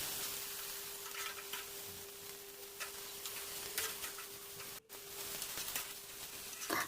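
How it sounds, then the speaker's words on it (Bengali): Cumin, green chillies, onion and tomato fry in hot oil in a wok for a poppy-seed dish, giving a steady, fairly quiet sizzle with small crackles and a brief dropout near the end, no voices. "কড়াইতে তেল গরম করে অল্প জিরে ফোড়ন, দুটো কাঁচা লঙ্কা, পেঁয়াজ আর টমেটো ভালো করে ভেজে নিলাম"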